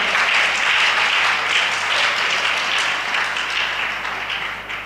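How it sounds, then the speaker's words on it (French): A church congregation at a Christian service applauding together, a dense, loud, continuous wash of clapping that holds steady for several seconds and then tapers slightly. "Acclamons pour vous-même."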